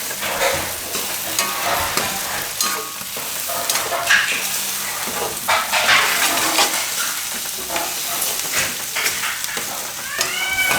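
A Gujarati red chili and turmeric vegetable curry cooks in a pan, sizzling and crackling steadily while a spoon stirs and scrapes in uneven bursts, close and fairly loud, with no talking.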